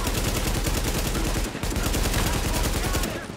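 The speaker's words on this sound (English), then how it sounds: "This gun is so boss, man. I love this AK." Sustained automatic AK rifle fire in the shooter game Tom Clancy's The Division, loud and continuous rapid shots with a brief gap midway, dense and close.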